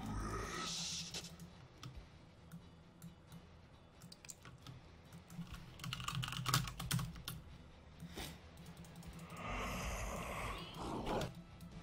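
Someone types continuously on a computer keyboard while playing Heroes of the Storm, the rapid clicks and key taps quiet and close over low background game sound.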